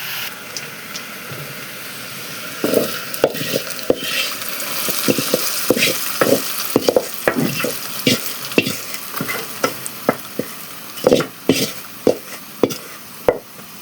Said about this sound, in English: So I'm going to mix my mukimo with this onion.